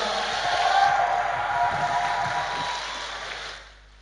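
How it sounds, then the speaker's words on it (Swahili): Congregation applauding and ululating for the Lord at a church service, a dense, loud wash of clapping and trilling voices that holds steady, then cuts off abruptly near the end. "Tuone makofi na vigelegele kwa Bwana"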